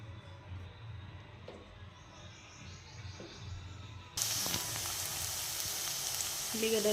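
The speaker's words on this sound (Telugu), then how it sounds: "కొంచెం బ్రౌన్ కలర్ వచ్చేంత వరకు వేయించుకోవాలి." Onions frying in oil in a pan while a chicken and fenugreek leaf curry is prepared, a steady soft sizzle that jumps to a louder, brighter hiss partway through and holds there.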